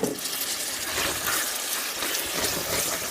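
Water pours into a cooking pot of black bean soup, a steady, splashing rush heard up close for the whole stretch.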